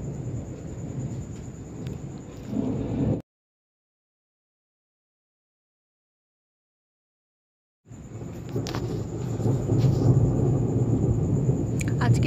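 Thunderstorm with steady rain and rolling thunder, close and fairly loud, continuous for about three seconds, then a stretch of silence before the rain and rumbling return.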